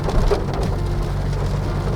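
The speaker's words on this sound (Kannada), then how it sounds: "ಮಳೆ ಬರ್ತಾ ಇರೋದಕ್ಕೆ ಎಲ್ಲರೂ ಸ್ಲೋ ಆಗಿ ಹೋಗ್ತಾ ಇದ್ದಾರೆ ಏನಕ್ಕಂದರೆ ಮಳೆ ಸಿಕ್ಕಾಬಡೆ ಜೋರಾಗಿದೆ" Heavy rain drums steadily on a car while it drives through Bandipur forest at night, a loud, dense, continuous wash with no voices.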